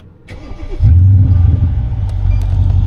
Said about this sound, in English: This is what starting up the car sounds like after it's already been warmed up.